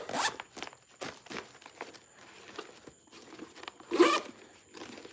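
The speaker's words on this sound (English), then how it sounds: "You stuff a bunch of worms in there and zip it up." Plastic zipper on a Ziploc-style worm-storage bag for fishing being zipped shut, a few quick rasping pulls close up with a sharper burst near the end, no talking.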